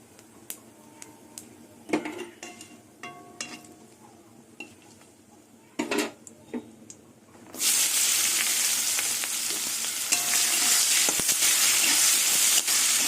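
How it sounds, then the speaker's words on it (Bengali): Onion and green chili dropped into hot oil already tempered with a dried red chili and whole cumin, for a rohu-style fish curry with eggplant; a few utensil clinks give way to a sudden, loud, steady sizzle that continues to the end. "এবার পেঁয়াজ আর কাঁচা লঙ্কা দিয়ে দেবো"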